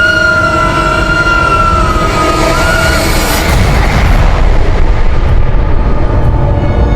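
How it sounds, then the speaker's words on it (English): A loud, sustained crash with a rumbling roar and long tonal whistle whine, ending in a broad, noisy blast that fills the sound. "It exploded?"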